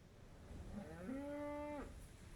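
Piglet, a pet in a fantasy video game, lets out one drawn-out cow moo, clear and alone, that rises and then holds steady before cutting off.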